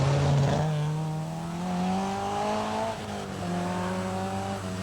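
Ford Escort rally car at the 1980 Ulster Rally, engine droning past at a moderate distance with pitch rising and falling through gear changes, steady and alone with no voices.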